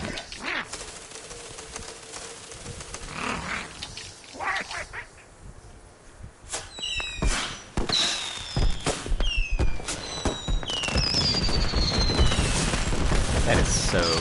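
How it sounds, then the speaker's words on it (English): A fireworks show in the VR mode of the video game Concrete Genie: a dense run of pops, crackles and bangs with rising and falling whistles, growing into a steady, busy wash of bursts. "Wait, I gotta make room for the fireworks show."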